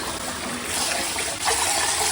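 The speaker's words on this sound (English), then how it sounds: "I'll rinse it the first time, swirl it around a little bit, and then I'll take it all out, dump the water, and do one more round." Water sloshing and splashing in a bowl as raw rice is rinsed, swirled and then poured off, a steady close wet gush that grows louder and brighter near the end as the water is dumped.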